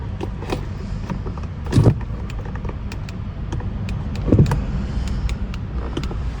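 A car engine in a parked car cranks but fails to start, two loud bursts of cranking about two and a half seconds apart, heard close from inside the cabin over a steady low rumble.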